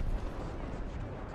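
A multiple launch rocket system strike in a tank combat game lands as a short, heavy booming blast with a deep rumbling tail, loud and close.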